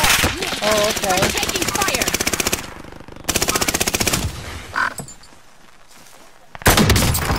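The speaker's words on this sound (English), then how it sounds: "Somebody's shooting so hard." Video game gunfire rattles in fast automatic bursts, loud and close, breaking off and resuming several times, with people talking over the shooting.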